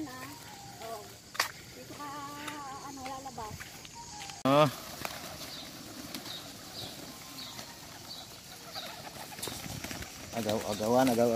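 Pigeons flock to rice thrown on the ground, with bursts of flapping wings and soft cooing and scuffling, while a person talks over much of it.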